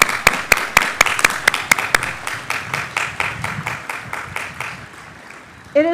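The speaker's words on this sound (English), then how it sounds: "Another round of applause." At a Stockton University commencement, a small crowd claps in crisp individual strikes that are quick and close at first, then slow and fade over several seconds before a voice begins.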